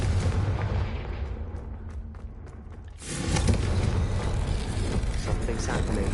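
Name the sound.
Confringo fire spell blast in video game Hogwarts Legacy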